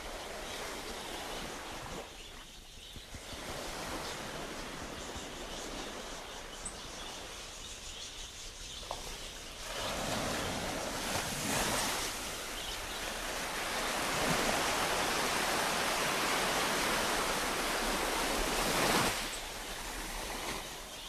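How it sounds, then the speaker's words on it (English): Sea waves washing continuously onto a rocky shore at Folkestone, swelling louder midway, with wind rushing and faint wild birds in the background. "let's enjoy that as we listen to the sound of the sea as well"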